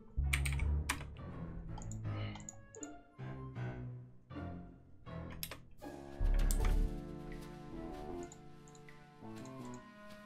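Keys clack on a portable keyboard in the Nancy Drew point-and-click game The Haunted Carousel, a run of crisp, close taps in quick bursts, then a longer chiming electronic tone near the end, with no talking.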